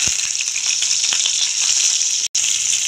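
Pieces of large kodua (sea bass) fish fry in hot oil in a pan for fish biryani, a loud, continuous hissing sizzle with faint crackles and a brief break near the end.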